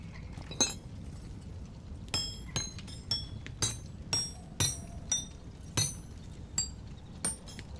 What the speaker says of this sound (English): It is literally that quick to hammer them,